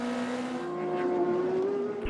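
Number 8 Toyota race car circling the track at Fuji during a six-hour endurance race, its engine droning steadily with a slowly rising pitch, close and loud throughout, with a brief low thump at the end.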